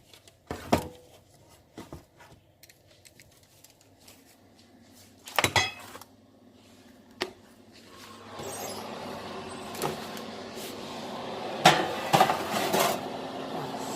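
Dried beans poured and settled as baking weights in a blind-baked shell for a Brazilian tart, scattered sharp rattles and clatters against metal, some isolated knocks, then a denser rustling stretch toward the end.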